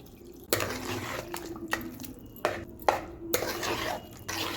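A spoon stirs and mixes curd rice with a little added water in a pot, giving a series of close, wet scraping and clinking strokes in an uneven rhythm with brief pauses between them.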